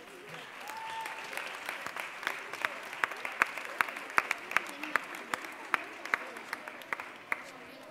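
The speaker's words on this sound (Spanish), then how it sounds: "Venga, un aplauso para Alba Guzmán Carrillo." An audience at a school event in Marbella applauds a primary-school student, with light scattered claps from a modest crowd that grow into sharper, more distinct individual claps over several seconds, fairly faint overall.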